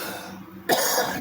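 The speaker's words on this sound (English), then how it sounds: "I wasn't coughing all day just until I started this." A single sharp cough bursts out after a stretch of quiet background hum, close to the microphone, in a workshop while a spring is being mounted on a frame rig.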